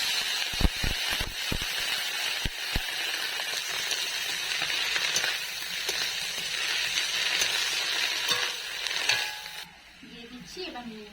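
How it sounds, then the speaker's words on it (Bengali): Chopped bottle gourd leaves hit hot oil in a wok after a few sharp clatters, then sizzle in a steady, moderately loud hiss. The sizzle fades near the end, with someone speaking over it. "আর পাতাটা যে কুচিয়ে রেখেছিলাম কড়াইতে দিয়ে দিচ্ছি।"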